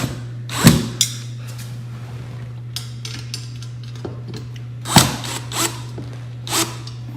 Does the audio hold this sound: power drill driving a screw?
yes